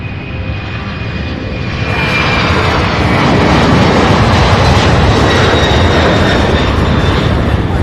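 A jet airliner taking off at Louisville International Airport, its engine roar swelling loud and broad after about two seconds and holding steady, close and alone without talk.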